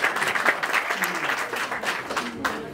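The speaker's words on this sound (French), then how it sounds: "applaudissez pour les initiateurs." Audience applause at a press conference for a northern Mali festival, a steady wash of clapping that runs the whole time with a voice mixed in underneath.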